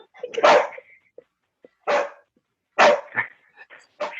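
A dog barks in several loud, separate bursts with short silences between them, mixed with a few yips, fairly close and mostly alone.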